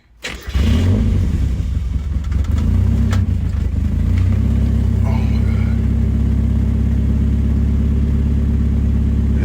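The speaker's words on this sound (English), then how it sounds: "I'm gonna try to just start her" A 1990 Mazda Miata with a newly replaced fuel pump cranks and fires within the first second, then settles into a loud, steady, rumbling idle that runs unbroken to the end, with no talking.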